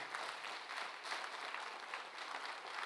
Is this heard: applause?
yes